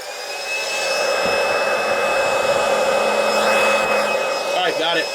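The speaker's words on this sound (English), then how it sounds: "Get my vacuum." A small vacuum cleaner switched on to suck up a stink bug, a loud steady whining motor drone running close by throughout with a brief rattle near the end.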